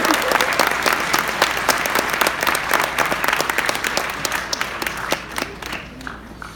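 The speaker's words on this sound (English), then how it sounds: "Let's give her another round of applause." A gala audience gives a performer another round of applause, a loud, full burst of many hands clapping that gradually thins and tapers off into scattered claps.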